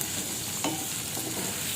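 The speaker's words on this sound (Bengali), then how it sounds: "আমি নাড়তে থাকবো। একটু ভালো মতো নাড়তে হবে।" Goat brain curry fries in a pan while being stirred, a dense, steady close sizzle with a brief scrape of the utensil.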